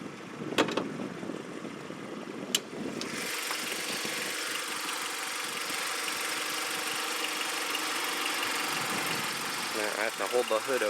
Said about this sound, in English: Can't really rev the engine because the throttle control is behind there